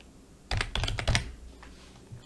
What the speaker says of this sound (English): And now we will type Santo Domingo.